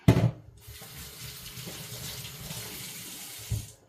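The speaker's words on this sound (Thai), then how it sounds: "ขอล้างมือก่อน" Running tap water splashes into a sink as hands are washed under it, a close, steady gush that begins with a brief knock and ends with a short thud.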